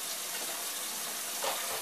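Four or five cups of water poured into a cooking pot for boudin-stuffed green peppers and rice: a steady, continuous rushing splash, close and even throughout, with no talk over it.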